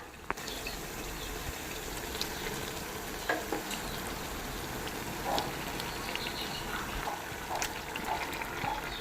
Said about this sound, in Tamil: இப்போ அதை நல்லா கிளறி விட்டுக்கலாம்.